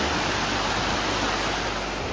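A high, fast river along the Motatapu Alpine Track, a loud, continuous broadband rush of water that stays steady and close the whole time.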